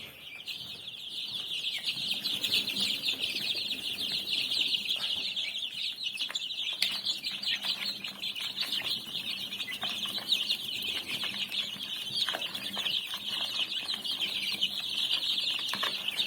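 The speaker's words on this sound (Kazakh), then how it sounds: "Бұл жерде 65 балапан бар." Dense, continuous high peeping from a flock of about 65 two-week-old incubator chicks crowding around fresh feed, many overlapping voices close by with no talk.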